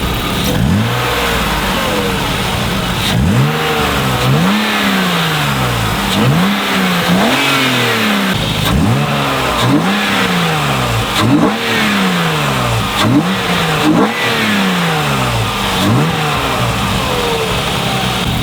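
BMW E36 M3 with an AFE intake, revved repeatedly up close: a loud series of sharp rising and falling engine sweeps in a steady rhythm over a rough idle, with no talking.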